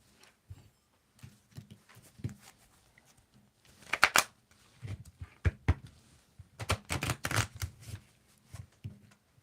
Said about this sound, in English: I need you to tell me when to stop shuffling, Morgan.